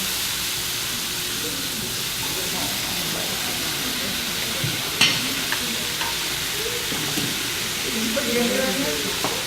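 Vegetables stir-frying in a pan, a loud continuous sizzle with occasional scraping and a sharp clatter midway.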